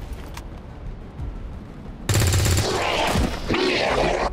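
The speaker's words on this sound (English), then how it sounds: "Nice shot." Gunfire in XCOM 2 during a tactical mission, a sharp loud burst that cuts in abruptly midway and stays dense with crackling impacts and rumble, following a quieter stretch with faint talk.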